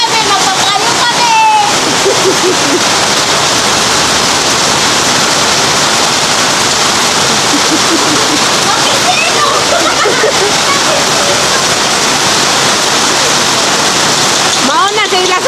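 Heavy rain pours down hard and loud on a farmhouse in the Philippines, a dense, constant roar of water splashing on surfaces, with brief voices and clatter breaking through near the start and end.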